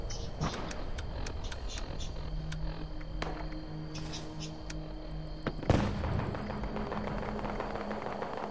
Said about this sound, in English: Somebody's throwing grenades, I don't know who.